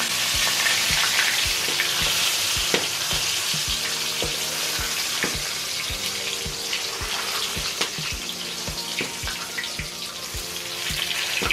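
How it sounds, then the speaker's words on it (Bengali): Fish frying in pure mustard oil crackles and sizzles continuously up close, punctuated by regular sharp ticks and spatters, with no speech. "আমাদের মাছ ভাজা চলছে খাঁটি সরিষার তেলে।"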